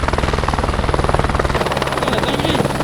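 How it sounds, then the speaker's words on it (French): Helicopter landing at close range, a loud rapid rhythmic rotor chop with a heavy engine drone that stays strong throughout, shifting slightly in tone partway through. "l'hélico est en train d'atterrir"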